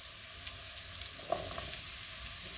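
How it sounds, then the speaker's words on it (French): Diced squash and onion fry in a pan with a mix of butter and oil, giving a steady, close sizzling hiss with faint small pops. No talking is heard. "je vais mettre le tout à rissoler dans une poêle dans laquelle j'ai mis un mélange de beurre et d'huile"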